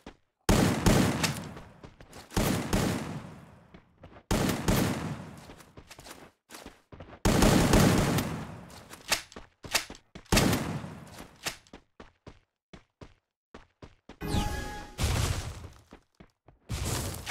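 Gunfire rattles through a Counter-Strike match in loud, sharp bursts and rapid volleys separated by brief pauses, with single shots and clustered automatic fire continuing throughout.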